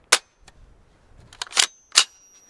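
FN P90 being loaded: a few sharp metallic clicks and snaps, spaced irregularly and close, with a louder double snap near the end and no talking.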